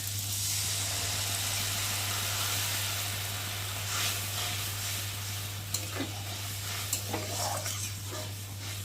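Steady sizzling and frying as mustard paste is poured over spice masala in a pan for a fish curry, with a few stirring clinks and scrapes toward the end, over a constant low electrical hum.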